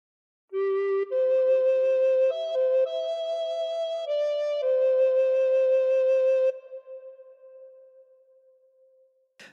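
Amazing Grace played alone on a recorder, a clear, breathy melody of steady held notes that stops, leaving a soft trailing tone.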